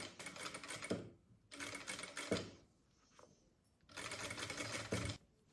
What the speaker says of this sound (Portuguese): Aqui, nós vamos costurar apenas a extensão que vai de ombro a ombro.